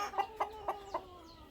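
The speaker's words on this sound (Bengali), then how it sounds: "দেখতে পারতেছেন আপনাদের সামনে মুরগিগুলো ডিম পাড়তেছে।" Hens on a poultry farm cluck while laying eggs, four short evenly spaced clucks in quick succession, fairly close and soft, with nothing else around them.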